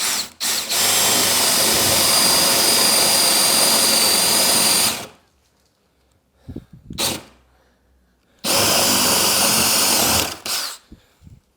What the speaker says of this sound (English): I'm going to drill through just until the point pokes out the back